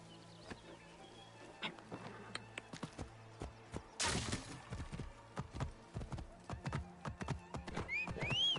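Hooves clip-clop in an irregular rhythm with a horse whinnying partway through in Assassin's Creed Origins, set against a background hum and occasional bird chirps.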